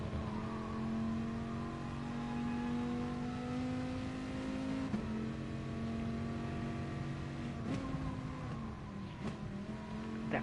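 A Mazda RX-3 engine in GT Sport drones steadily while climbing a mountain road in third gear, its tone gliding with speed shifts and two brief dips at gear changes, with no voices.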